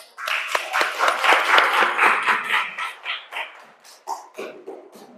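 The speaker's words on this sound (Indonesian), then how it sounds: "Tepuk tangan." Classroom applause from students after a presentation, a dense burst of many hands clapping that gradually thins out into scattered claps over a few seconds.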